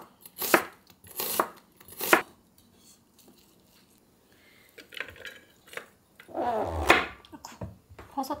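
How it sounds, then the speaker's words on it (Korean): Knife on a cutting board slicing mushrooms into long strips for soy sauce pork belly, with a few crisp separate strokes, a pause, then a quicker run of cuts, close and clear. "버섯도 양파처럼 길쭉길쭉하게 썰어주세요"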